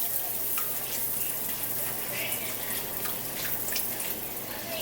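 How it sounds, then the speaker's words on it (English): Steady, loud sizzling and crackling of bhatura bread frying in hot oil while being basted, with brief splashy bursts throughout and no talking. "The technique is to keep splashing the oil on top of the bhaturas."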